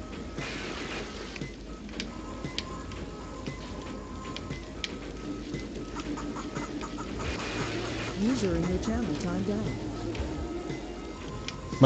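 Chickens cluck in the arcade video game Alien Storm, with busy game sound effects all around and voices talking underneath.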